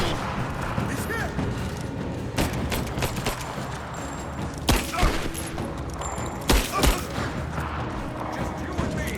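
Rapid bursts of gunfire and heavy booming blasts from a firefight in Rise of the Tomb Raider, a PS5 video game, crackling continuously with louder thumps toward the end, while combat voices shout over it.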